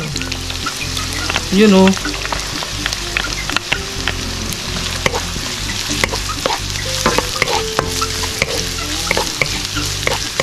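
Garlic sizzles and spatters steadily in a hot pan while a utensil stirs and scrapes through it, with a brief tonal sound near the start and a voice speaking a couple of words, for an adobong tahong mussel dish.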